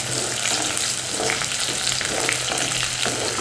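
Eggplant pieces sautéing in oil with onions for a village-style dry fish kulambu, a loud dense continuous frying hiss with faint stirring rustles underneath, close and unbroken, no voices.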